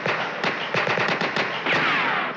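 Rapid police gunfire in a radio drama, where units open fire on syndicate gangsters cornered in a barn: loud, close bursts of repeated shots in quick succession, with a trailing ricochet-like whine at the end and no speech.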